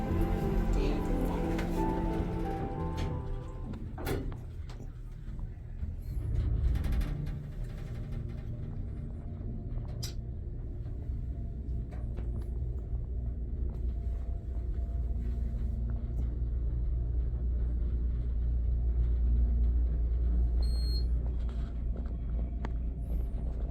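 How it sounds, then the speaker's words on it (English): A hydraulic elevator ride inside a Nordstrom Rack store in Tysons, a steady low motor rumble running throughout with a couple of jolting bumps from its rough start and stop, no talking. "This lift has very rough starts and stops."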